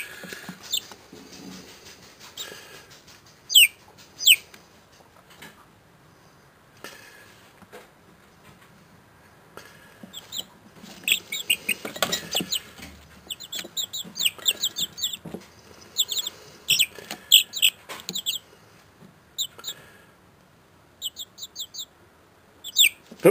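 Chickens in a backyard flock give short, high chirping calls in scattered bursts, close by and fairly faint, with quiet rustling and shuffling between them.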